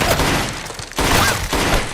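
Gunfire from a film scene in The Purge: Anarchy, a loud, dense burst of shots that breaks off briefly and then resumes in a rapid fusillade.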